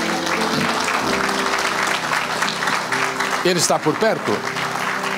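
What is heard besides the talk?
church congregation applauding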